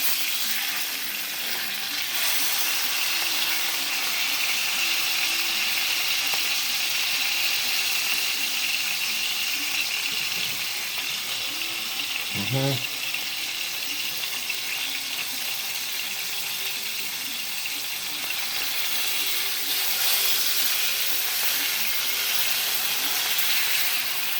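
Beef for a Beef Wellington sears in a hot pan, giving a steady, loud, continuous sizzle that holds evenly throughout with a brief clatter midway.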